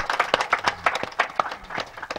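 Audience claps at a ceremony honoring a singer, with quick, irregular hand claps close by for a couple of seconds and no talk.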